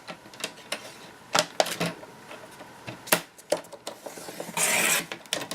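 A Stampin' Up paper trimmer being handled, with a run of sharp clicks, taps and plastic knocks, then a brief sliding scrape near the end, close and moderately loud.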